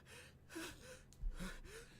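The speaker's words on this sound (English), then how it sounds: "Sinclair was gasping for air behind him" A character in a video game gasps for air, with several strained breaths in a row, fairly faint and heard without talking.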